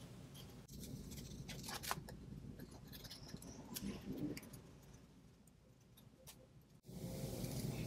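Small scissors snipping steadily at scrap paper, close up, with faint rustling and handling noises throughout.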